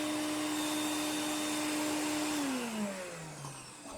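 A vacuum cleaner whines steadily and loudly while a car's cluttered interior is cleaned, then its pitch drops as the motor winds down near the end.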